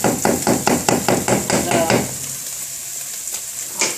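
Cooked rice tipped onto onions frying in a pan for hibachi beef fried rice, a rapid series of rhythmic tapping scrapes over a steady sizzle that then continues on its own.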